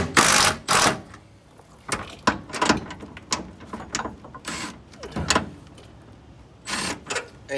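A 12 mm socket on a ratchet works loose mounts on a Honda during a fuel system job, with bursts of rapid clicking ratchet strokes and clanks separated by short pauses, close and fairly loud.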